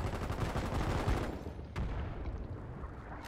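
Artillery guns fire in the Foxhole war game during an emergency bombardment at Iron Junction, a dense run of overlapping booming shots that stops abruptly, followed by a single later blast and a fading rumble.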